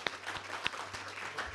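Brief applause from an audience after a talk at a French conference session, a quiet scattering of claps over about a second and a half with faint room noise.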